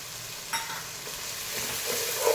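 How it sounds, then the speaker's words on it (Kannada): Masala with chilli powder and biryani spice frying in a pan for paneer dum biryani, a steady close sizzle with light stirring scrapes and a brief louder stir near the end, no voices. "ಇದು ಚೆನ್ನಾಗಿ ಮಸಾಲೆ ಚೆನ್ನಾಗಿ ಫ್ರೈ ಆಗುತ್ತೆ"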